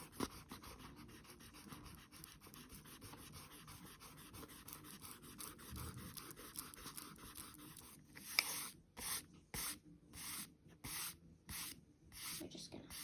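A kneaded eraser rubs lightly over pencil lines on paper, a soft steady scuffing close to the mic, ending in a run of quick, louder stop-start rubbing strokes.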